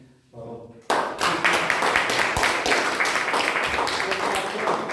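Members of a Toastmasters club meeting clap to welcome a first-time visitor, sudden burst of steady applause after a brief spoken moment, continuing evenly to the end.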